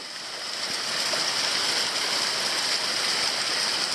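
A little trickling side creek at Canungra Falls, seeping down a mossy cliff on Queensland's Toolona Creek Circuit, makes a steady, even wash of water noise that swells slightly at the start and then holds, with no voices.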